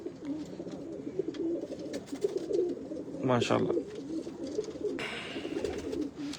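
Johnsire breed pigeons, home-bred, heat-tolerant field champion birds, cooing in a steady soft murmur throughout, with a voice speaking briefly over them and some handling noise partway through.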